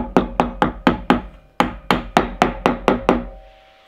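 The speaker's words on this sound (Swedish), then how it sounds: "Och så en träklubba." A wooden mallet strikes a glued dowel into wood with about a dozen sharp, close knocks at a steady, even rhythm, followed by a brief fading tail.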